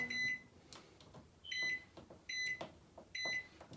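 A microwave oven heating candy melts, giving four loud, evenly spaced electronic beeps with a low hum and faint clatter between them.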